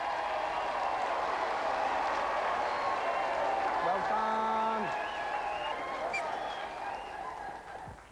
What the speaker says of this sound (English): Let's have a round of applause for both of our contestants.